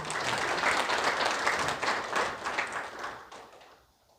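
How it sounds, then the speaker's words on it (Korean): An audience at a council meeting and inauguration ceremony in Jeju claps to welcome the provincial education superintendent, with dense applause that holds steady and then tapers off and fades out near the end. "큰 박수로 맞이해 주시기 바랍니다"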